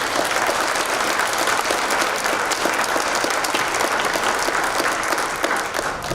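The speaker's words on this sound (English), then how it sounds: "quick round of applause for our panelists." A room of attendees at a college sailing symposium claps loudly and continuously for the panelists, dense even applause filling the whole stretch without a break and with no speech over it.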